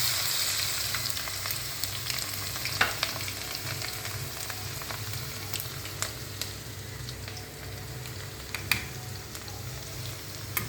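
Crushed garlic and asafoetida frying in hot oil, a soft steady sizzle with a low pulsing hum underneath and scattered small pops and spatters throughout, no voices.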